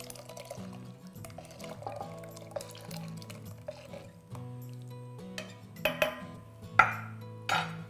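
Beef stock ladled and stirred into a simmering Turkish yoghurt soup, with soft liquid pouring and splashing, a spoon clinking against the pot, and a few louder splashes toward the end; no talking.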